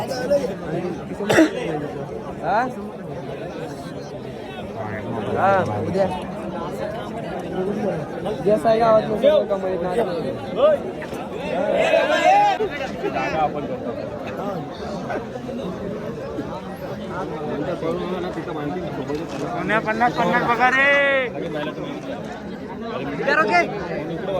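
A large crowd chatters and calls out at a bullock cart race ground during a Savali Desai maidan race, a steady loud babble of many voices with bursts of shouting and laughter.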